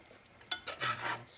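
Peach cobbler filling stirred in a pan, soft peaches shifting with a few brief scraping strokes and a light sizzle, close and fairly quiet, with no talking.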